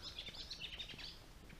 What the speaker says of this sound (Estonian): linnud on hakanud taas helistama